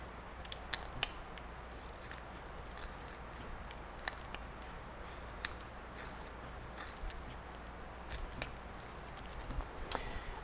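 A carving knife slicing wood to shape the nose on a carved face, giving sparse short crisp clicks and scrapes scattered over a low steady background hiss, close but faint with no talking.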